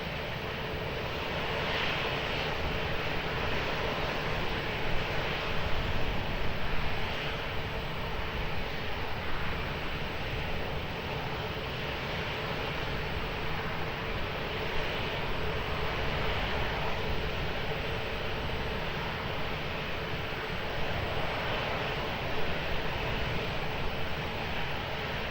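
A fixed-wing airplane takes off at Lisbon Airport, its engine roar a steady, broad rumble heard from a distance and holding level throughout, with no voices.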